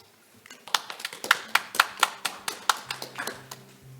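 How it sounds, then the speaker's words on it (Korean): A small audience claps for three presenters at a best-practice session of the 2021 Global Korea Expo, sparse distinct hand claps in an uneven rhythm that thin out toward the end, with faint background murmur. "참가해주신 세 분께 다시 한번 큰 박수 부탁드립니다"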